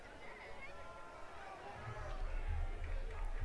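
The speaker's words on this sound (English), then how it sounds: "We've got a lively crowd down here." Crowd at a high school football game, a steady murmur of chatter and cheering at moderate distance that swells louder toward the end.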